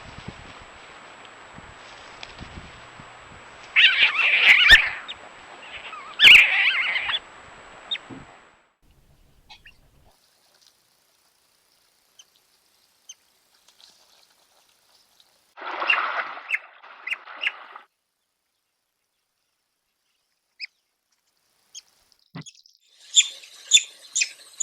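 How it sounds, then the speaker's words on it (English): An otter pup calls in alarm near a river, thin high-pitched squeaking chirps arriving in a few scattered bursts separated by long near-silent gaps, faint to moderate in level. "You hear that scared baby call?"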